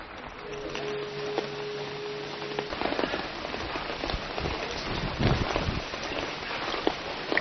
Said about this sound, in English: it's just started raining